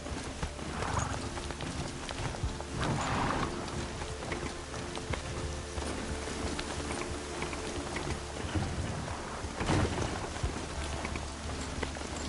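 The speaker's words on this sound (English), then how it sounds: "Here comes the rain." Steady rain falls across an outdoor scene in the video game Horizon Zero Dawn, a continuous dense hiss with scattered thuds and knocks mixed in.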